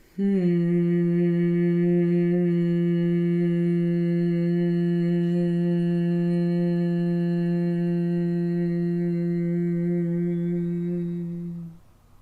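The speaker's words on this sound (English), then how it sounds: "And breathe out with that humming noise." A person humming steadily while breathing out through the nose during a yoga breathing exercise, a single sustained tone held for about eleven seconds before fading out.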